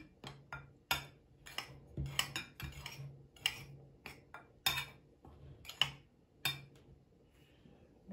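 Spoon clinking and scraping in a bowl while stirring cocoa and sifted flour into batter for quick microwave cupcakes, with irregular close taps and scrapes and no talk.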